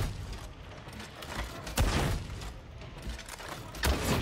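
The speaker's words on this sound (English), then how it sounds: "if you just keep firing the weapon," Ogryn heavy weapon in Warhammer 40k Darktide fired repeatedly, a dense stream of muffled booming shots with a couple of louder thumps, fairly quiet and without talking.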